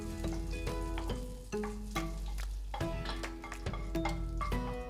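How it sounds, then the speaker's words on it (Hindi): Curry leaves roast briefly in ghee in a pan, crackling and spitting in a dense, continuous sizzle with short bursts of stirring, over a steady tonal hum. "अब थोड़ा सा कड़ी पत्ता, इसको भी हम रोस्ट कर लेते हैं"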